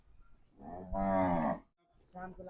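A Gir cow moos nearby, a long low drawn-out call, followed by a shorter second moo.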